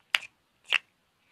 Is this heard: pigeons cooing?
no